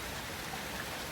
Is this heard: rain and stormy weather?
yes